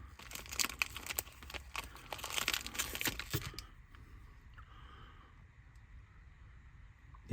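Plastic packaging holding Tamiya model kit tyres is cut and torn open, close crinkling and crackling for a few seconds before it settles into quiet handling rustles.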